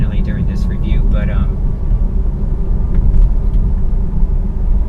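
Low steady road rumble and wind noise inside a 2018 Tesla Model 3 Performance cruising on the highway, a constant loud drone with a person talking over it at the start.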